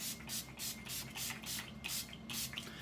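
Several quick bursts of Urban Decay All-Nighter setting spray hiss in an even rhythm, close and fairly soft, with no talking.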